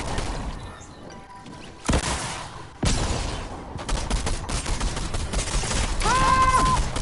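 Video game gunfire bursts out in sharp, loud blasts, with a big crash near two seconds, another near three, then rapid shots and a ringing electronic tone toward the end over constant game noise.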